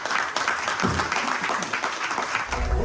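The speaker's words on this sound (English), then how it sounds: "Round of applause for them, guys." An audience claps steadily for performers at an acoustic music talent search in Wales. The applause is sustained and even, without a break.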